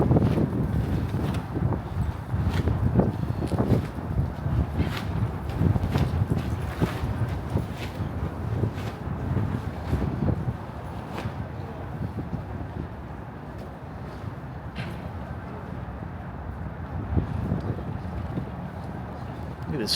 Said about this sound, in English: Really tell the wind is picking up right now.